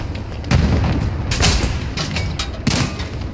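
A tank gun firing at an anti-tank gun in the World War II shooter game Hell Let Loose, with sharp booming shots at about 0.5, 1.3 and 2.7 seconds over a steady rumbling battlefield backdrop.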